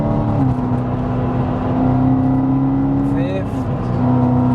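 A 666 hp supercharged BMW M3 Touring pulls hard in fourth gear under throttle, its loud, steady engine drone close and continuous with a brief rising whine partway through.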